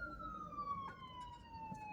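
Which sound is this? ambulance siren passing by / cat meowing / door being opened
ambulance siren passing by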